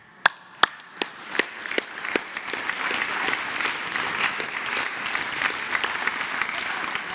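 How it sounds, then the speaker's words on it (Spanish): A press-conference audience in Mexico applauds, starting with a few sharp separate claps that quickly swell into steady, moderately loud clapping from the whole room. "Un aplauso."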